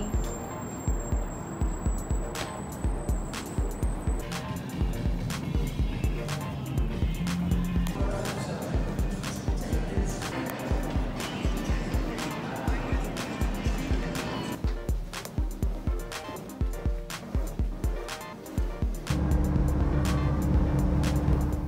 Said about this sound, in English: So now we are on the bus ride back